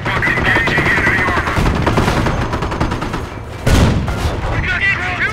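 Dense gunfire and explosions from the World War II strategy game Company of Heroes, loud and continuous with heavy booms, mixed with shouted voices over the battle.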